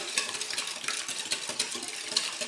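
Safflower oil being whisked into orange juice waffle batter, a quick, close, rhythmic scraping and sloshing of a whisk in a bowl, steady throughout.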